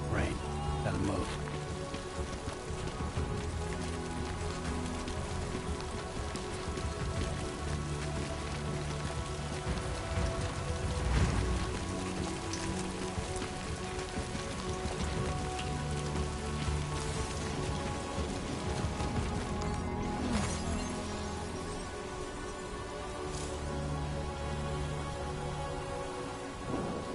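Steady, dense video game rainfall in Death Stranding 2 pattering on surfaces throughout, with a low rumble underneath and a brief voice over it.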